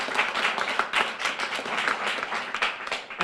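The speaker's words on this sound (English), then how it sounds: "So that's worth the quick round of applause." Quick round of applause from an audience at a Pool Safely partnership announcement with the Michael Phelps Foundation, a steady wash of many hands clapping at moderate level throughout, no speech over it.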